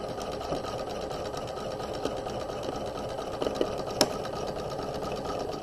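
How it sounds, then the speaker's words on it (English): A sewing machine stitches across the shoulder seam of a garment with a flat collar, running as a steady, close mechanical whir with a few faint clicks and no talking. "We're going to sew across the shoulder seam"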